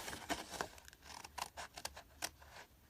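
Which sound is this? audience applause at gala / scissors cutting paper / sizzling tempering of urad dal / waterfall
scissors cutting paper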